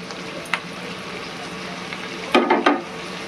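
Chopped onion and grated garlic fry with rice in a pan, a steady soft sizzle broken by a few brief scraping stirs near the end.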